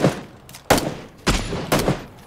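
Gunfire in the video game PUBG: three sharp, loud shots spaced roughly half a second apart, each with a short decaying tail, with no talking over them.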